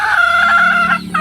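A free-ranging backyard hen clucks and calls briefly, close and fairly loud, with no talking.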